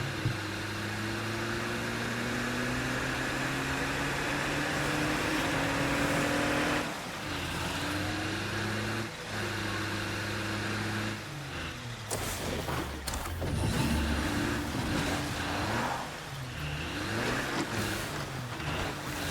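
A car engine hums and rises in pitch as it accelerates in State of Decay 2, shifting gears with steady tonal whine, then rough bumps and clatter as driving continues at close range.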